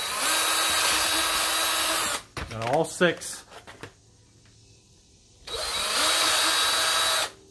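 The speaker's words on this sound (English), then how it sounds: "I'm going to drill the holes." A power drill bores holes through window shutters on a pole barn home, two loud sustained runs of whirring separated by a short spoken remark in the middle.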